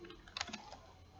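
Faint, close typing on a computer keyboard: a short, uneven burst of several key clicks, then quieter room tone with no speech.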